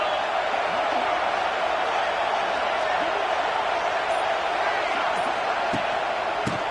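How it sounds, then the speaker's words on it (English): A college football crowd roars in support of the defense on a big third down against Alabama, a dense, steady wash of stadium noise throughout with no clear pauses. "Big 3rd down as the crowd gets behind this defense."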